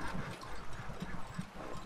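Horse hooves clip-clopping in the Red Dead Redemption II video game, a faint, quick rhythmic patter of hoofbeats heard alone.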